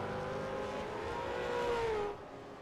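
A V8 Supercar engine in the iRacing racing game drones loud and steady through a Long Beach street-circuit lap, then the pitch eases and the sound drops away.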